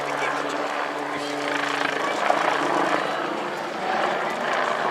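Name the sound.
VIP transport aircraft from Northolt flying display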